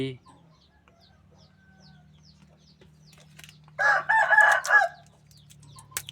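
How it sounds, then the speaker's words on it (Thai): A rooster crows once at mid distance, a loud drawn-out call of about a second rising out of a quiet room hum, with a brief voice at the start. "ไก่มาขันอะไรตรงนี้"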